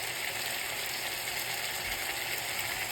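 Pumpkin pieces sizzle steadily in a pot of saltfish, a faint, even hiss of frying that holds without a break for a few seconds.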